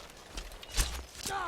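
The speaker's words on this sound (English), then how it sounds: "And there goes my horse." Horse hooves clopping in Skyrim, a few quick irregular hoofbeats close by, with game ambience and some vocal sounds over them.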